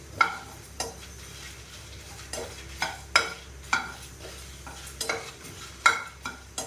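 Ration toor dal dry roasting in a pan for parupu podi, with a quiet rustling background and repeated scraping stirs that come in an irregular rhythm, close and fairly soft.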